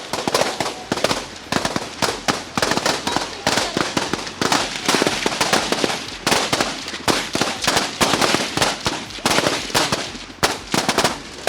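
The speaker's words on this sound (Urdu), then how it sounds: "آپ دیکھ رہے ہیں کنٹینیوس فائرنگ ہو رہی ہے" Continuous gunfire rattles through an SSG commando training demonstration, loud rapid bursts and cracks that barely pause, dense and close, with no talking.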